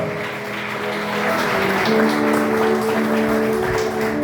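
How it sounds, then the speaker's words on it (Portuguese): Worshippers in church clap together in praise, a continuous, fairly loud applause mixed with sustained musical tones from instruments. "Você pode aplaudir o Senhor?"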